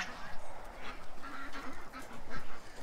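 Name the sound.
ducks quacking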